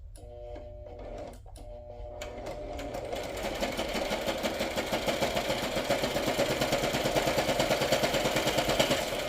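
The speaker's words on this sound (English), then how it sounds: "Ew, you just sound ugly, sewing machine." A sewing machine sewing through paper runs steadily, its needle hammering in a fast, rough mechanical rhythm that starts with short bursts and then continues loud and unbroken.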